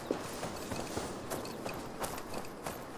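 Horse hooves clip-clopping in the video game Assassin's Creed Valhalla, a few soft, irregular hoof taps over a steady background hiss, fairly faint with no talking.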